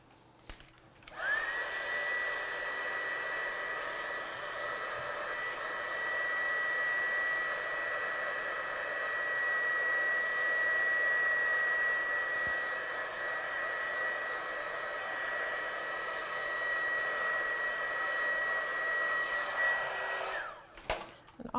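A hair dryer blows on a watercolour and stamped card, switching on with a click, then a steady, loud whooshing hum running unbroken for about twenty seconds before cutting off.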